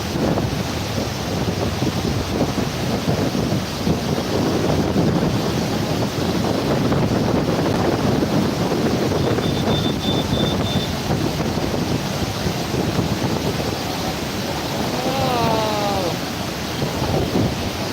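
Surplus water gushes from the Mettur dam with a loud, continuous roar of spray and wind buffeting the microphone, and a faint chirping rises briefly near the end.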